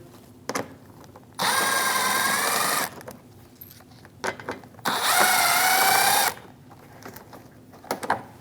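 Two sustained whirring bursts of a power tool with a 7mm socket backing out bumper screws on a 2016-2025 Chevrolet Malibu, each lasting over a second, with clicks and handling noises between them.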